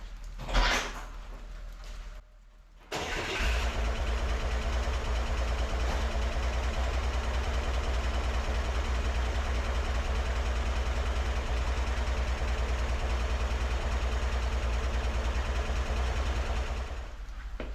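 A 1963 Chevrolet Corvair engine, worked on during a fuel system repair, restarts after a brief cranking burst and settles into a steady, continuous idle with a low rumble that holds unchanged.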